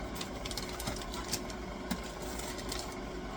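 FoodSaver vacuum sealer drawing the air out of a storage bag, a steady mechanical whir with a few faint clicks, moderately quiet and close, with no talk over it.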